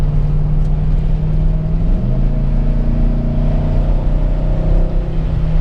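A 5.3 V8 engine in a light two-door Jeep drones loudly and steadily from inside the cabin, its low pitch dipping briefly and then climbing as it pulls ahead.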